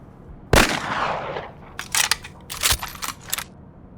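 Gunshots at a shooting range, a sharp loud crack followed by a decaying tail, then several rapid bursts of shots in quick succession, close and with no talking.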